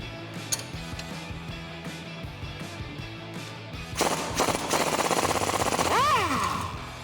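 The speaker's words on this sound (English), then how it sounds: "Now we're gonna remove this bolt right here on the bottom of the link." A bolt on a 1997-2006 Jeep Wrangler TJ sway bar link is removed with an 18mm socket and a 15mm wrench. Light ratchet clicks and metallic taps come first, then a loud, close, rapid rattling burst of a power tool that rises and whines to a stop.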